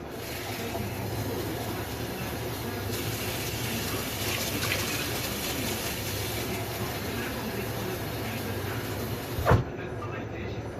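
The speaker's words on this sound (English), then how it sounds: "Now I'm just going to add 2 more pints of water." Water runs steadily into a pot of Irish beef stew, a continuous close splashing pour that lasts throughout with a brief clunk near the end.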